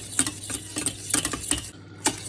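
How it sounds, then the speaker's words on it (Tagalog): Dry ingredients being stirred in a hot pan with a spoon, giving a run of sharp scraping strokes in an uneven rhythm, close and fairly quiet, with a brief pause near the end. "Silagay na natin itong ating dry ingredients. Haluin lang natin."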